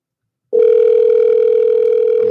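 An outgoing phone call rings on the line as a single steady, loud electronic tone that starts abruptly and holds for about two seconds, with no voices.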